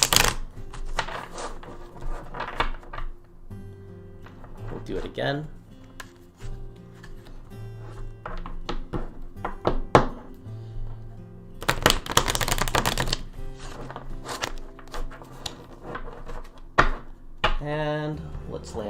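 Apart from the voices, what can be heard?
shuffling playing cards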